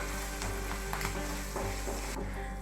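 Asafoetida, fenugreek powder and turmeric sizzling in a pan while mango rice is prepared, a constant close frying hiss with soft intermittent stirring scrapes and a low steady hum beneath.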